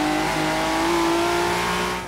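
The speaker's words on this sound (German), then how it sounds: "Vollgas, Vollgas, Vollgas." Ford GT at full throttle in the Forza Horizon 3 racing game, a loud sustained engine roar holding steady at high revs throughout, close and continuous with no speech.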